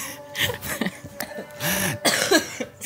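A person coughs several times in short bursts with a throat-clearing rasp, close and fairly loud, with quiet pauses between the bursts.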